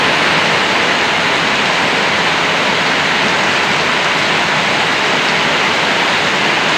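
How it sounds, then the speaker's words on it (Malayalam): Heavy rain pours steadily on a school-opening day in Kerala, with roads flooding, a dense, constant broadband hiss without pause, loud and close, with no voices. "എന്താ മഴ."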